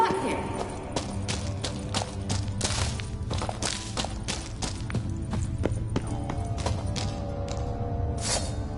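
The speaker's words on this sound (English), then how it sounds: "Kelpie. Another horse." Geralt's horse Kelpie galloping in The Witcher 3, rapid close hoofbeats clopping in a steady rhythm over a low game soundscape, with sharp impacts throughout.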